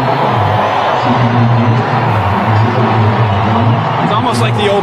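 A large stadium crowd roars and cheers without a break as the Oklahoma Sooners run onto the Rose Bowl field, a dense, steady wall of voices that stays loud throughout.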